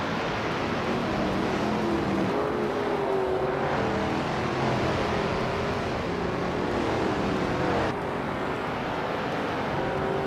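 A 1962 Ferrari 250 GT racing in a video game, a continuous engine roar with rising and falling pitch as it shifts through gears, steady and moderately loud without speech.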